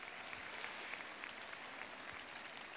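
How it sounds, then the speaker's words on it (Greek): An audience claps steadily for a children's choir at a Christmas event, dense even applause held throughout at a faint, distant level. "δυνατό χειροκρότημα για τα παιδιά της χοροδίας της εθνικής λυρικής σκηνής"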